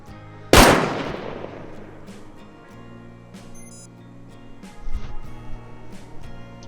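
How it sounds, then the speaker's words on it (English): A single loud gunshot from a hidden turret in the video game Rust cracks out early, followed by fainter, scattered shots and game ambience. "As you can see, I got completely shot by the turret."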